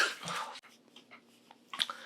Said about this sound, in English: Have to sneeze.